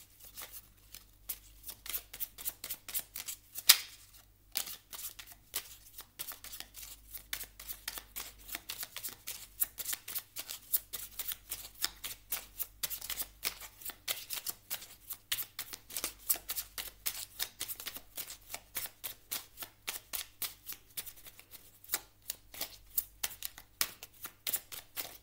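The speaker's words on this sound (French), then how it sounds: "On va aller prendre une dernière carte ici du petit oracle du druide." Oracle cards shuffled by hand during a tarot reading, a steady run of soft papery riffles and flutters close up, continuing for the whole stretch with no talking.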